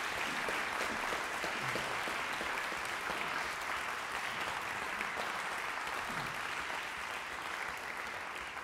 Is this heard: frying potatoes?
no